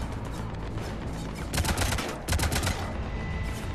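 Heavy cannon fire from the Mass Effect 3 Omega DLC, rapid loud bursts of booming shots in two clusters over a steady background of game noise, with no talk.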